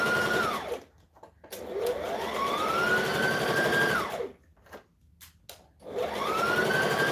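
A sewing machine stitches pinned blouse fabric in two long bursts, its motor whine climbing as it speeds up and dropping as it slows, with a short quiet pause between runs and no talking.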